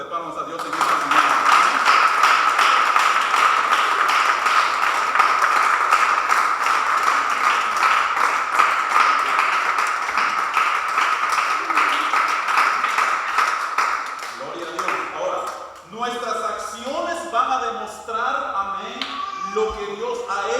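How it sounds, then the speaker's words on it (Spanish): A church congregation claps as an offering to God during a morning service, sustained, dense applause for most of the stretch before a voice begins speaking as the clapping fades. "Denles ofrendas de palmas a Dios en esta mañana."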